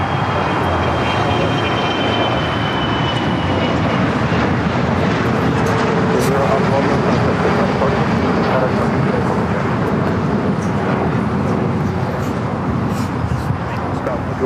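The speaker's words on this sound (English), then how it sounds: "that was a Gulfstream G450 taking off" A Gulfstream G450 business jet takes off at LAX, a loud sustained engine roar with wind buffeting, while people talk over it throughout.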